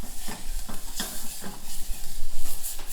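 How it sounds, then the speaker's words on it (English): Minced garlic, about a tablespoon, sizzles and crackles in a hot pot while being stirred, with a steady frying hiss and a few soft scrapes of a utensil against the pan. "So there we go in with about a tablespoon of minced garlic."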